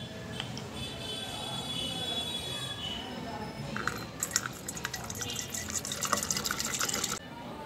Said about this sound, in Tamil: இதை இந்த ஸ்ப்ரே பாட்டிலில் ஊற்றிக்கலாம்.